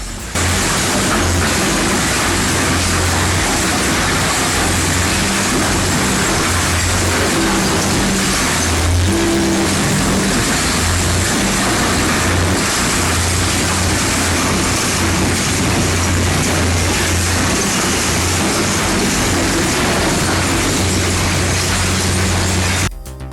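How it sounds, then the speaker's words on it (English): A 768-horsepower twin-shaft metal shredder crushes engine blocks, producing a steady, loud, dense industrial rumble and grinding that runs unbroken throughout with no speech. "With 768 horsepower under the hood and twin shafts, it tears through engine blocks like cardboard."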